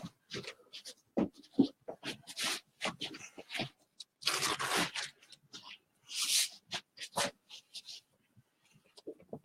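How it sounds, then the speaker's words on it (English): Pen or marker scratching across paper in short bursts and strokes, close and fairly quiet, with irregular pauses between words being jotted down. "let me just write that down"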